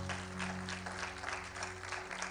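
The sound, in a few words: congregation applauding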